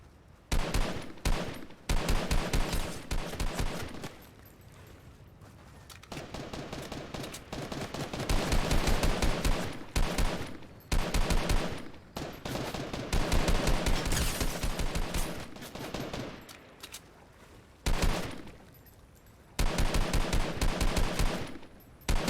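Gunfire in Fortnite: bursts of rapid automatic shots crackle in repeated volleys, broken by short pauses, loud and close throughout.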